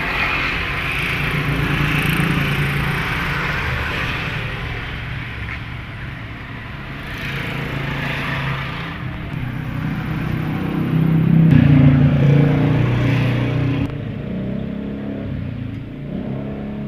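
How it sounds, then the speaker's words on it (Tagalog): Toyota 3A engine running steadily up close, with a couple of revs building to a louder, rougher roar before settling back to idle, no talking. "Ito naman yung makina mga kapobre. Toyota 3AU."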